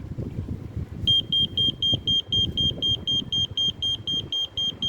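An old 1990s pager sounds a loud, high electronic beep in a steady train of short pulses right after its battery is inserted, starting a second in, close up over faint background rumble.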